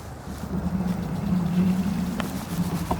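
A 2200W dual-motor Aniioki A9 Pro Max 60V electric bike pulls away with a steady low motor hum under rushing wind noise, close and continuous.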